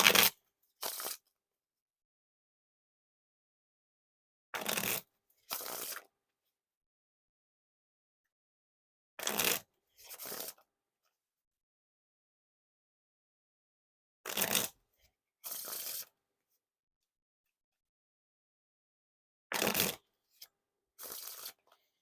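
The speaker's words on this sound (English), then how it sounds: "Now time for the riffle shuffle or bridge shuffle." Brisk riffle shuffles of a Skelstrument deck of playing cards come in quick pairs of rapid fluttering bursts, repeated about five times with silence between.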